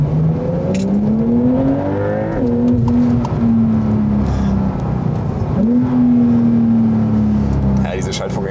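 A Porsche Turbo engine drones and climbs through the revs while driving, with audible gear shifts dropping the pitch before it pulls again, loud and close from inside the car, with speech over it.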